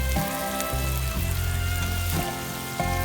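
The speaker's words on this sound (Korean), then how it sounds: "김치도 삼겹살 기름에 구워지니까 어떤 맛인지 모두 아시죠?" Kimchi sizzles and fries in pork belly fat on a grill at a valley campsite, a loud continuous crackling hiss with small shifts as pieces are moved, no talking.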